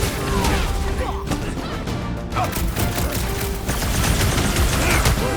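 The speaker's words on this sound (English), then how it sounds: "I'll lay down some cover fire to get you across!" Rapid cover gunfire in the video game Marvel's Guardians of the Galaxy, a dense, loud fusillade of shots with crashing impacts and explosions running continuously through the whole stretch.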